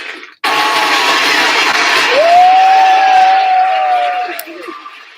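Cheering and whooping from a small group, loud and close, with a whistle-like rising and falling tone sliding through the middle, sustained for several seconds before trailing off.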